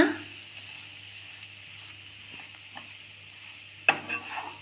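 Bread chilli is gently stirred as it fries in a pan over a low flame, with soft scraping and a faint sizzle under a steady hum, then a sudden sharp clank of the spatula near the end.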